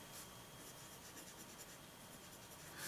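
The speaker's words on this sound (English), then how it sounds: "let's go ahead and put nib to paper" A vintage 1960s German Senator Regent fountain pen with a steel nib scratches steadily across paper, a soft continuous scritching rasp that runs close and quiet throughout with no one speaking.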